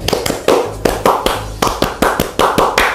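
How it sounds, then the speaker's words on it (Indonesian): Several hands clap the Indonesian scout clap pattern in a podcast studio: sharp, close claps in a quick, uneven rhythm of short bursts with brief pauses between groups, loud and with no talk over them. "tepuk pramuka"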